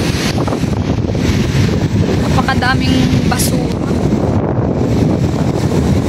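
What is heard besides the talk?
strong wind on the seashore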